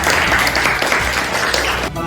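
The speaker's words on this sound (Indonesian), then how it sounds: "Tepuk tangan untuk Arya." A classroom of students breaks into brief, dense clapping throughout, close and loud, with voices mixed in.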